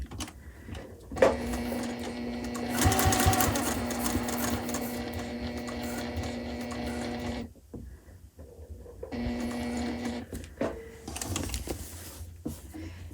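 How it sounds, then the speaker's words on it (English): A sewing machine runs steadily while stitching a pocket onto fabric, whirring close and clear, then pauses briefly before stitching again in a shorter run. "I drop my needle right where I want to start stitching. And I take a couple stitches"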